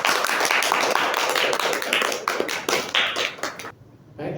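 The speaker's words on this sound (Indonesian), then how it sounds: "Apresiasi untuk teman kalian yang ada di depan, tepuk tangan." A classroom of students claps for classmates after their presentation on volcanic processes, dense loud applause that thins and stops near the end.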